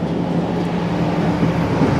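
Steady low rumble and hum fill a train dining car that also houses the power generator, a constant loud drone with a faint tonal line beneath, no voices.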